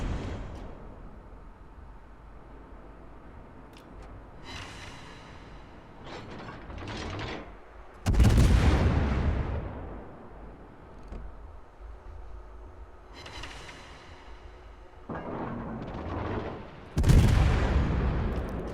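Heavy naval gun salvos from a Wichita cruiser in World of Warships boom twice with long rolling tails, separated by mechanical clanks and turret whirring in the battle.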